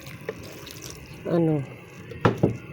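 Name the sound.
water being added to a cooking pot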